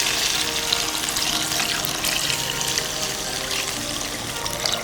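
Chicken stock, a litre, poured steadily into a pot of Thai soup with chopped aromatics, a continuous close splashing liquid rush that holds evenly for the whole stretch with no voices.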